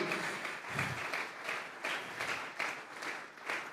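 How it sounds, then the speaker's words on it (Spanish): A church congregation claps in unison as an offering of praise, a strong rhythmic beat of many hands striking together in regular pulses. "Regálele ofrenda de palmas al Dios de la gloria."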